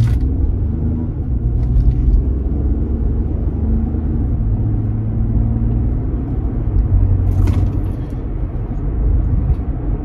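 A 2018 Toyota Highlander XLE AWD driving, its engine and road noise forming a steady, loud low rumble throughout, with no obvious gear-shift events standing out and no talk.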